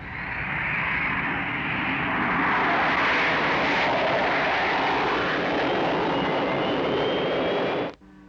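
A Captain Scarlet aircraft takes off with a loud, sustained jet roar that builds and holds for about eight seconds with a faint rising whine, then cuts off abruptly, with no talking.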